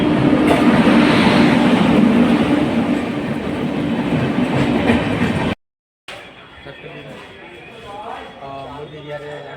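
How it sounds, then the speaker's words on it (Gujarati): A train rolls into Vadnagar station in Gujarat with a loud, close roar and rhythmic wheel clatter, a person talking over it; after a brief cut, quieter platform sounds and talk follow. "જો સામે તમે જોઈ શકો છો કે ટ્રેન આવી જ રહી છે"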